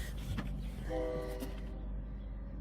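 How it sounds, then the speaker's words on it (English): A train rumbles steadily in the background, with a low continuous drone and faint tonal hum rising briefly in the middle. "Now the train's in the background."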